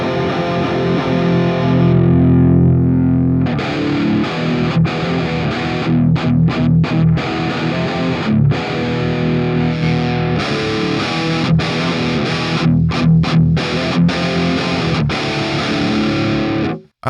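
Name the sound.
distorted guitar through ToneLib Metal 1960A cabinet mic positions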